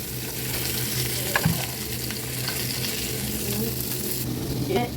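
Fish frying in a pan with a constant crackling sizzle, a couple of brief clinks partway through, and no one speaking.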